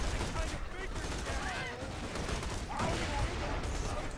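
Dense, chaotic gunfire and grenade blasts from the Borderlands 2 video game roar almost without pause, with crackling bursts layered over a constant loud battle din.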